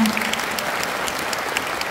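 Audience applause at a Korean carbon-neutrality campaign event, a steady, dense clapping that fills the whole short stretch at an even level.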